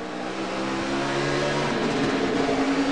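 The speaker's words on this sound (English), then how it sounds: "It hit the rev limiter when he missed it." NASCAR Camping World Truck Series race engine at Nashville screaming at high rpm and bouncing off the rev limiter after a missed shift, a loud steady buzzing roar with no break for the full three seconds.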